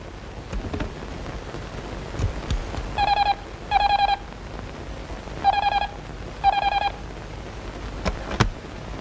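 A telephone number is dialled: four clear touch-tone beeps in two pairs ring out over a steady background hiss, with no talking.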